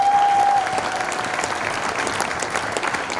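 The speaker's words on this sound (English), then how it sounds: "So clap your hands to yourself" An audience at a community anniversary celebration in Canada applauds loudly and steadily, a dense, close wash of clapping that carries on without a break.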